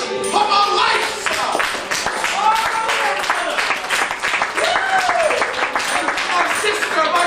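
Audience applause at a twist dance party show, steady and fairly close, with voices talking over the clapping throughout.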